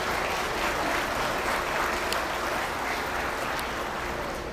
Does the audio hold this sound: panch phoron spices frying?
no